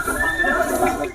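At a horse market during a Makar Sankranti fair in Yeola, a horse gives a loud, close whinny lasting about a second, with faint crowd voices underneath.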